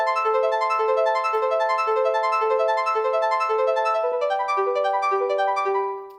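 A Prophet 12 rack synth in Ableton Live runs a synced arpeggio from three held notes: bright, evenly timed stepping tones in a steady repeating pattern, loud and close. A lower note enters near the end before the sound fades out.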